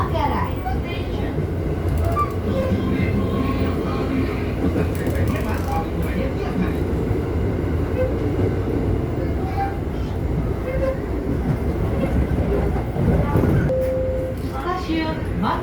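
Train at Manggarai railway station, a busy transit hub: a loud, steady low rumble of rail traffic fills the platform with a short tone near the end, and people talk throughout.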